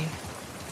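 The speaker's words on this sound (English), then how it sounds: "Let's get out of the rain." Steady rainfall in The Last of Us Part II, a soft even wash of drops hissing across surfaces, continuous and fairly quiet throughout the brief moment with no voices.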